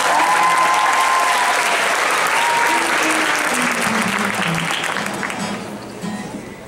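Loud audience applause with scattered cheers at a talent show, sustained for several seconds before gradually thinning and fading toward the end.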